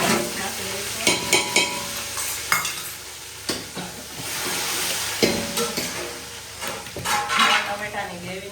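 Red chillies dropped into hot oil with asafoetida for a Gujarati potato curry, hissing loudly as a metal spoon scrapes and clanks against the pan, close and busy.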